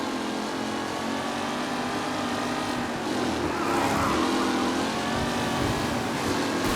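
Vintage race cars in a race in the video game Mafia: Definitive Edition give off a loud, continuous engine drone that rises as they rev and pass close by, with no speech.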